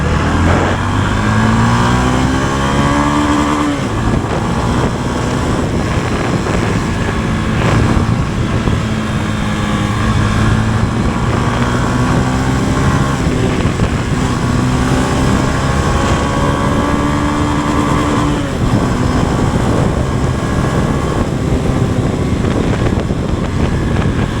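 A Honda CB300F motorcycle engine revs up and down repeatedly, loud and close, with steady wind rush over the microphone throughout.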